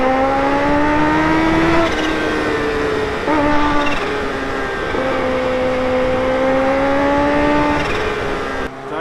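A Kawasaki Ninja H2 superbike engine drones steadily while being ridden, its pitch rising through each gear and dropping at shifts, loud and continuous with rushing wind noise around it.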